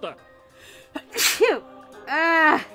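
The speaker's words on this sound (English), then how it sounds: "Well, that was a sneeze." A sharp, loud sneeze bursts out between bits of speech, followed by more talking.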